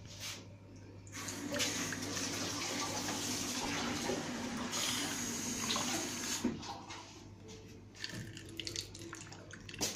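Tea being poured from a just-boiled kettle in a home kitchen: a steady, close stream of liquid running for most of the stretch, tapering off near the end.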